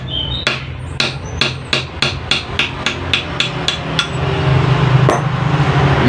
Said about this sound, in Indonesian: kita tinggal palu.